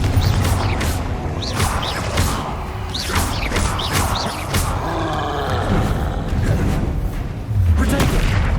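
Explosive Confringo spell blasts in Hogwarts Legacy, booming impacts and crashes amid busy combat noise and faint voices, loud and sustained with a deeper thump near the end.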